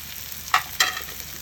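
Raw chicken is tipped into a hot pan with onions, giving two quick, close sizzling splashes over a low, steady background hiss.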